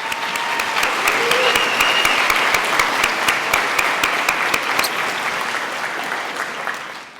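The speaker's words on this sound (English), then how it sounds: "Okay, now clap." Crowd at a city State of the City event claps steadily, a loud, dense wash of applause with sharp individual claps standing out, tapering off near the end.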